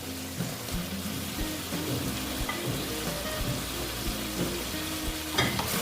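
Pointed gourd (potol) frying in a pan for a vegetarian moong dal curry, a dense, continuous sizzle with low clattering scrapes from stirring, a slightly louder burst near the end.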